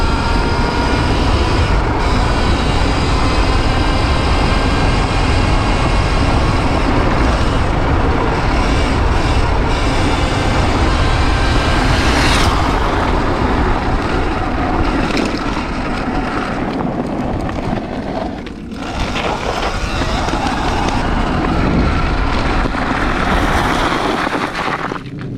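Sur Ron electric dirt bike fitted with a KO Moto controller and stock motor, ridden on a new tune: loud, continuous wind-buffeted riding noise with a steady rushing roar and brief dips, no voices.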